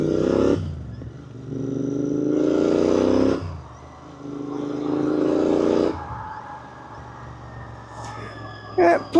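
Motorcycles ride along the road on a Royal Enfield Continental GT 650 outing. An engine drone repeatedly rises in pitch as the bike accelerates through the gears, with brief dips at the shifts and steady wind rush underneath.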